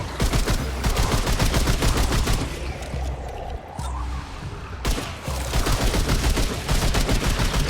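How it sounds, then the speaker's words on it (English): Enemy laser fire in the video game Remnant 2: dense, rapid bursts of crackling shots, loud and nearly continuous, with a brief lull midway before the barrage resumes. "shooting Covenant lasers at me"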